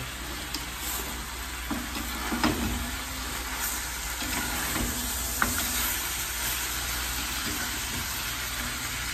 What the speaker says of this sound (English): just give this a little stir